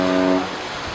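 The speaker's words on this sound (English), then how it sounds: "The captain of this supertanker was already doing his job properly by honking repeatedly." Supertanker ship horn sounding near the Isle of Wight, a deep tonal blast that cuts off partway through, with a low rumbling background after.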